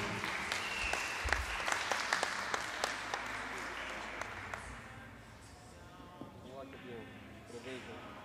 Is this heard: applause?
yes